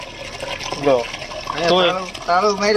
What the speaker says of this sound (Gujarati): જો પાણી આવે એમાં હું ત્રીસ રૂપિયા નાખી દઉં એટલે આવી જાય